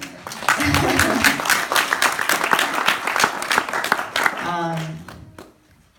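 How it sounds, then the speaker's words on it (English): An audience bursts into applause, broad and sustained clapping with a few cheers and voices mixed in, before a speaker's voice briefly cuts through and the sound trails off. "Yeah, you can clap for that."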